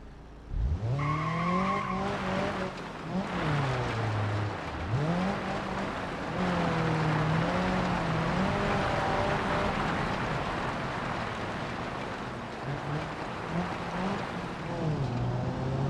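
A car cruises down a highway in the BeamNG driving game, its engine droning loud and continuous with rising and falling revs and gear-shift swoops throughout.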